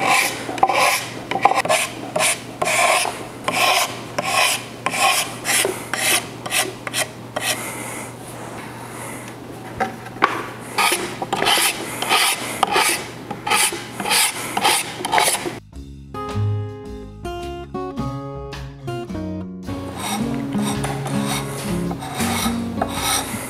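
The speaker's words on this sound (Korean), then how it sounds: "이 부분을 다 석고 대패로 쳐 내려간 다음에 완성시키려고 합니다" A plaster plane shaves down a plaster mould in steady, rapid rasping strokes, close and continuous. Near the end the rhythm breaks into a brief run of brighter scraping before the strokes resume.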